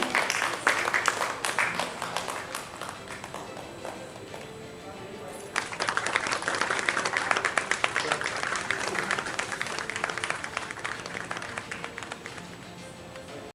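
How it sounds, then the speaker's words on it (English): Sustained crowd applause fills an awards ceremony hall, dense rapid clapping that dips and then swells louder about halfway through, with voices talking over it. "Can we have a big round of applause once again?"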